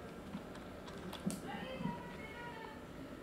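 Typing on a computer keyboard, a few soft, quiet key clicks in a brief run with no speech.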